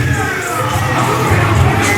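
A wrestling crowd at a WOW intergender match reacts with a sustained low roar and scattered shouts as the heel team makes its entrance. It fills the whole moment at a steady loudness.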